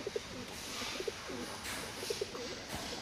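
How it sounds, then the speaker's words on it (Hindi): Soft, low coos of a male pigeon repeat in short phrases against a steady background hum, fairly faint and unhurried. "देख सकते हो दोस्तों नर की गुटरान।"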